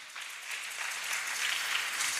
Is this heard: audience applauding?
yes